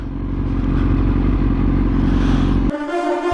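A 650 motorcycle passes close by with a loud, steady engine roar and clatter that cuts off sharply near the end, leaving a different lower engine hum.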